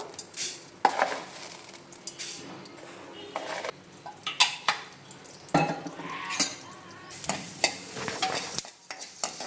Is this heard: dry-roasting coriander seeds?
yes